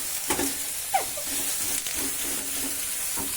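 Soybean chunks fry in a wok with a steady, close sizzle and hiss, broken by a few soft stirring scrapes and clinks.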